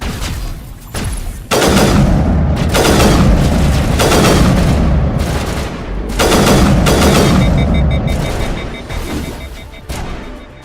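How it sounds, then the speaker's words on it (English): Sniper rifle and battle gunfire in the video game Mass Effect Legendary, with loud, heavy booming shots and sustained rumbling explosions coming in several bursts, some sharp onsets, fairly close. "This is a weird sniper rifle."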